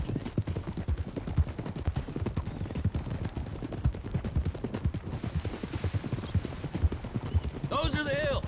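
Several horses gallop steadily in a Western video game, a dense, rolling clip-clop of hooves running the whole way through, loud and close, with a horse whinnying near the end.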